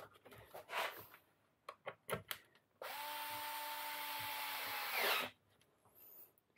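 A cordless screwdriver drives a screw into an Arrma Felony RC car, whirring loud and steady for about two seconds with a final tightening burst, between scattered handling clicks and knocks before and after.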